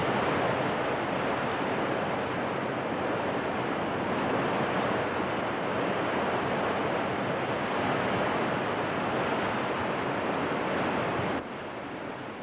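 Rushing river rapids in Argentina, heard during a weeks-long swim, give a steady, dense wash of churning water that stays loud and close for the whole stretch before dropping slightly at the very end.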